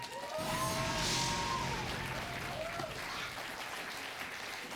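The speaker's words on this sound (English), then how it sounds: "Thank you for applauding and hiding the groans of that bad joke." Quiz competition audience clapping at a student quiz match, fairly quiet applause with a whoop or whistle early on, tapering off over a few seconds.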